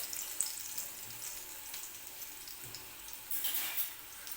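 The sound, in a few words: crushed garlic frying in hot oil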